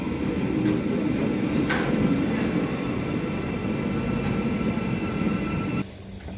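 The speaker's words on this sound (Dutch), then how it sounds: "We zitten dus in de Einheit GTW naast Sliedrecht Baanhoek." Steady rumbling ride aboard an Einheit GTW regional train near Sliedrecht Baanhoek in the Netherlands, a constant low drone of running gear and wheels with faint rattles, dropping suddenly quieter near the end.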